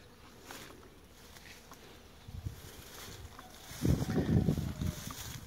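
Honey bees buzz around pomegranate flowers outdoors as a soft, steady drone under broadband background hiss. A louder, closer burst of buzzing comes near the end.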